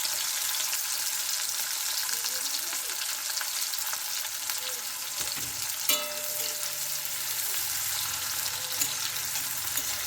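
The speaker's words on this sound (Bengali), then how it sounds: "তো গোটা গরম মশলা তেলে দিয়ে দিলাম, তেলের মধ্যে আর দিয়ে দিচ্ছি পেঁয়াজ কুচি। পেঁয়াজটা নেড়ে চেড়ে হালকা লাল করব।" Chopped onions and whole garam masala fry in hot oil for chicken biryani, a steady bright sizzle running throughout, with a brief clatter of stirring near the middle.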